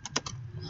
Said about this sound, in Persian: در این قسمت ما به فارسی تایپ میکنیم